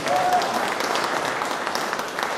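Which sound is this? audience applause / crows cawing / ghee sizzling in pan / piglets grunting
audience applause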